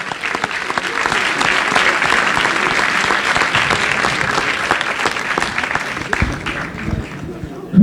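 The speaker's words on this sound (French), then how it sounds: "Je crois qu'on peut les applaudir aussi parce qu'ils ont fait un bon travail." Loud, dense applause from an audience at a corporate inter-company challenge event, honoring the organisers, sustains steadily for about seven seconds before tapering off with a brief thump at the end.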